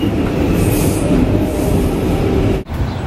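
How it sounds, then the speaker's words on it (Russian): New York subway train running loud and steady, a dense rumble of wheels and rail noise with faint squeals, briefly dipping near the end. "Иду я сейчас на метро"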